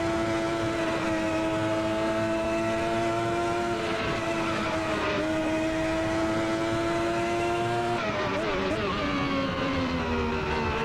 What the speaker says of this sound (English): they sound very much like a Ferrari V12 Formula One engine